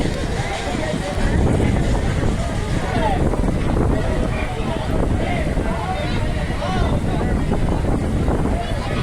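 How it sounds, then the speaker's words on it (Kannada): Strong gusting wind buffets a handheld phone microphone outdoors at the Halebidu village fair, producing a loud, continuous low roar with rumbling blasts throughout. "ತುಂಬ ಗಾಳಿ ಇದೆ, ಫೋನ್ ಇಟ್ಕೊಳ್ಳೋದಕ್ಕೂ ಕಷ್ಟ ಆಗ್ತಾಯಿದೆ"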